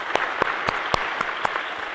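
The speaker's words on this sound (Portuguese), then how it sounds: "Peço à comunidade uma salva de palmas ao casal." A church congregation in Balneário Camboriú gives a round of applause for a couple. A handful of sharp, separate claps stand out at a loose, uneven pace over a soft, broad wash of clapping.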